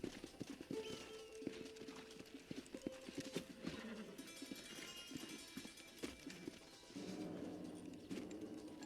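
Horses' hooves clopping in the video game Red Dead Redemption, rhythmic hoofbeats with occasional neighs and whinnies, plus scattered thuds and a musical score underneath.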